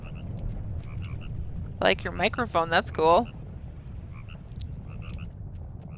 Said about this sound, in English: And the frog has escaped the pond.